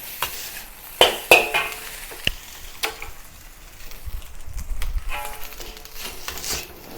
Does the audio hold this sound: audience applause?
no